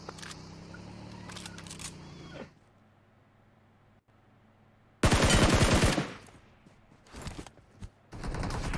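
Gunfire in a shooter video game: after a stretch of game ambience and a near-silent pause, a loud burst of rapid shots erupts, followed by a few shorter, sharp volleys close up.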